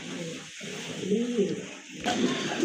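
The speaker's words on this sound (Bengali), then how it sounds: "খুবই সুন্দর টপ লেভেলের এক জোড়া কবুতর মাশাআল্লাহ" A pair of top-quality pigeons coos in low, rounded bursts, with soft background noise and a brief louder rustle near the end.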